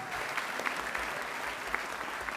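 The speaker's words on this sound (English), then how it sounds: "Round of applause for those individuals too that you see each and every day" Steady applause from an audience at a Board of Education meeting, honoring school staff and board volunteers; dense, continuous clapping throughout with no talk over it.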